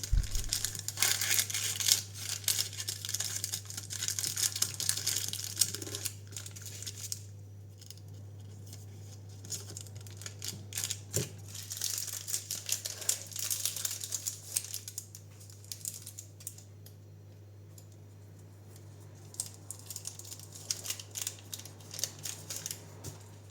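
Homemade bouillon cubes being wrapped by hand, with plastic or paper wrap crinkling and rustling in irregular close bursts over a steady low electrical hum, no talking.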